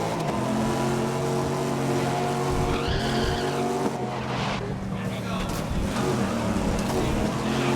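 Corvette race cars in the 2019 Grid racing video game, engines roaring steadily through the whole stretch with a skidding squeal midway, close and loud, under someone talking.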